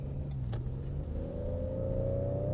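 A 2019 Ford Edge ST accelerates away: a low steady rumble gives way to a rising engine note that climbs smoothly over the last second and a half, with no talk.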